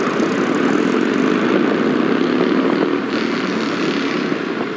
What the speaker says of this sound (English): very loud motorcycle